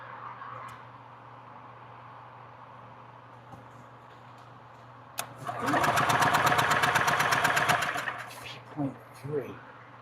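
An engine cranks in a garage: a steady, rapid chugging burst lasting about two seconds, followed by a couple of short cranks, rising over a quiet hum with speech nearby.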